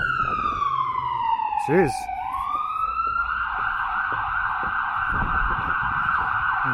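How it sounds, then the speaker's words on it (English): Emergency vehicle siren on a busy city street in Toronto's Little Italy, wailing loud and close as its pitch sweeps down then rises into a sustained high tone, over traffic noise, with a brief spoken exclamation. "you just blast that siren."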